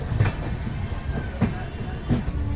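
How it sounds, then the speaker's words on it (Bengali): Darjeeling Mail train rolling slowly over track changes at night, a steady low rumble with periodic clunks of wheels crossing points at close range. "রাতের অন্ধকারে ধীরে ধীরে ট্র্যাক চেঞ্জ করে এগিয়ে চলেছে দার্জিলিং মেল।"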